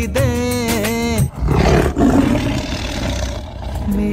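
A deep, loud tiger roar and rumbling growl, in the Ratapani tiger area, breaking out after a sung note and rolling on continuously with a gritty, powerful texture.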